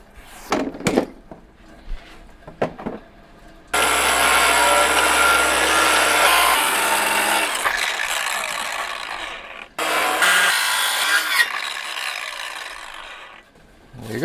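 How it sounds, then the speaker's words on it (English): A circular saw cuts a window frame opening into the metal wall of a Sprinter van, whining loudly in two long bursts with a harsh grinding rasp, after a few short clicks and knocks. "I think the circular saw is better for this"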